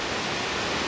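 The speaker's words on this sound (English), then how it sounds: "it's raining outside and on a steel building." Rain drumming on a steel building roof, a steady, dense broadband hiss that holds constant and fairly loud throughout with no breaks.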